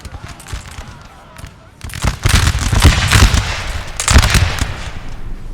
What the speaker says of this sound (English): Give him a volley for Italy